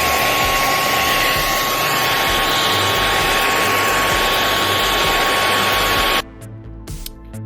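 A hair dryer blows on restored vintage dolls' hair, a loud, steady whirring roar with a constant whine, close to the microphone, that cuts off abruptly near the end and leaves a few faint handling noises.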